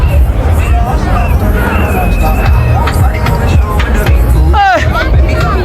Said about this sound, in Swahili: Ni umati ya watu jamani.